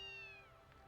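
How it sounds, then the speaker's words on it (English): A cat meows once in the video game Ys II Chronicles, a single clear tonal call that slides downward and fades out over under a second, with no talking. "A kitty cat."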